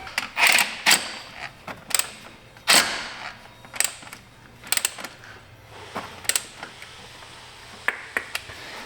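A bolt on a Hyundai Accent engine is tightened with a ratcheting wrench, giving a series of sharp, irregular clicks and creaks, close and clear, with no talk.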